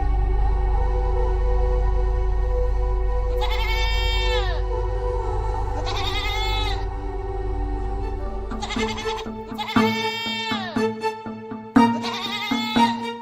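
Cartoon goats bleat in a Bangla animated story, with four or five wavering bleats spaced a couple of seconds apart over a steady low musical drone.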